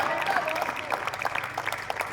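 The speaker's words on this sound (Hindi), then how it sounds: "तो ऐसे ही तालियां बजाते रहिए" Audience clapping at a Hindi poetry recital at NIT Rourkela, a steady mass of hand claps spread across the whole moment, fairly loud and close, with no voices on top.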